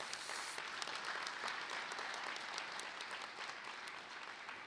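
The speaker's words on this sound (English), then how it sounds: "Let's give them a round of applause, y'all." An audience at a sheriff's office promotion and awards ceremony claps steadily and continuously, a dense, even wash of applause from many hands.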